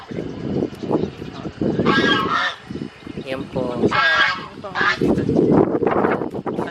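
A pair of geese honk loudly in repeated bursts on a farm in Dinalupihan, Bataan, several calls overlapping, with a person speaking briefly between them.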